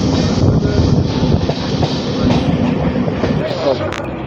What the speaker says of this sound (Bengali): খুব কম সময় দাঁড়িয়ে ট্রেন আমাদের ছেড়ে দিল হাবিবপুর থেকে